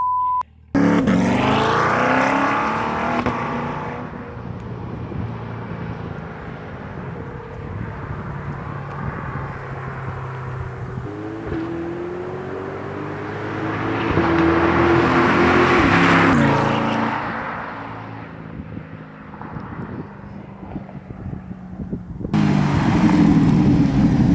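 A C8 Corvette fitted with a CORSA exhaust drones and rises through revs in a sustained loud engine note, swelling and falling, with voices talking over it.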